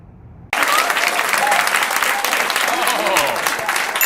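Loud applause from a comedy-show audience bursts in suddenly after a short quiet moment, then carries on as dense, sustained clapping with some cheering mixed in.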